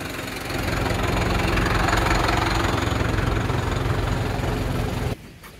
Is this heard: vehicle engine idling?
yes